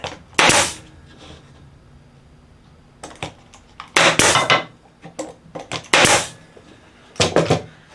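Glued 2x4 pine piece being stapled in place, several sharp percussive staple-gun shots in spaced pairs, close and loud against a quiet room.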